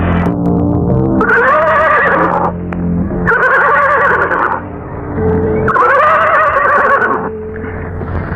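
Horse neighing as a radio drama sound effect, three loud, long whinnies in a row with short pauses between them, close up and alone without any talking.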